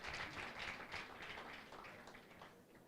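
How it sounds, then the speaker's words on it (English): A conference crowd applauds steadily, a dense wash of clapping that slowly fades over a few seconds, heard from a distance and fairly soft. "So a round of applause for him."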